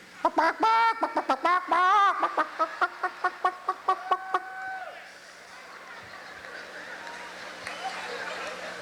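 A stand-up comedian imitates hens with a quick series of rhythmic clucks and squawks, then the audience breaks into a burst of laughter and crowd noise.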